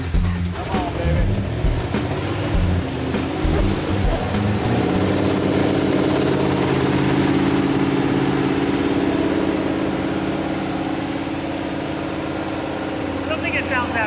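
A 1971 Dodge Ramcharger six-cylinder engine running, a rough, loud mid-pitched idle with uneven revving early on that settles into a steady drone, heard close up with a voice talking over the start.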